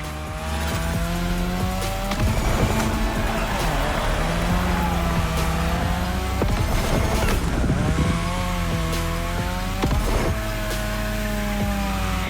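Car engines rev and tires squeal continuously as cars drift on a Japanese drift track in The Crew Motorfest, loud and sustained with wavering engine pitch throughout.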